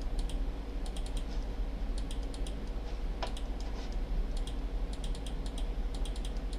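A computer mouse clicks repeatedly in short, crisp bursts across several seconds, steady and close, over a constant low electrical hum.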